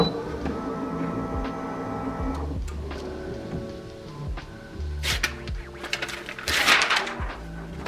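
An HTVRONT Auto Heat Press 2 presses a large design, giving a steady close mechanical whir and hum that breaks into clunks and brief hissing, rattling bursts near the end.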